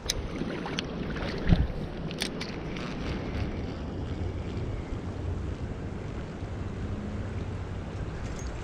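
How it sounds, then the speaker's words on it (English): A creek swollen after heavy overnight rain rushes in a steady broadband roar, mixed with gusts of wind against the microphone and a brief knock early on. "this creek is up super high"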